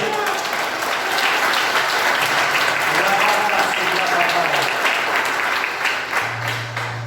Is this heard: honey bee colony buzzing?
no